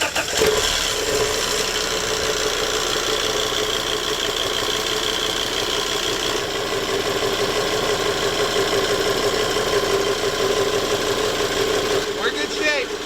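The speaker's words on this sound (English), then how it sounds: "I'll start the engine," A boat engine turns over and catches in the first second, then settles into a steady, loud, close idle with a low knocking rumble that runs for over ten seconds. Voices are faintly mixed in underneath.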